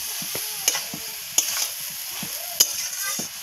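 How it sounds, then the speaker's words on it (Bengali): Cauliflower curry is stirred and dried out in a pan with no added water, giving a soft continuous sizzle broken by three distinct clinks of a spoon on the pan and light scraping between them. "এরকম নাড়তে নাড়তেই শুকনো করবো আমি"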